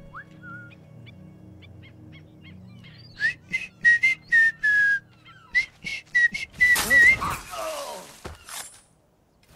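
In Assassin's Creed 4: Black Flag, a character whistles short, bright, chirpy phrases in an irregular rhythm to draw guards, with a sharp clattering burst near the end.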